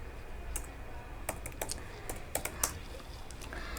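Keys clack on a computer keyboard while a React coding project is set up: a quick run of light, close taps, sparse at first and then denser, over a faint steady background hum.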